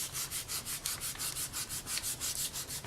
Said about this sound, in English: And I'll almost burnish it.